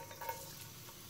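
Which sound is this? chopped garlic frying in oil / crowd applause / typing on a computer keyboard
chopped garlic frying in oil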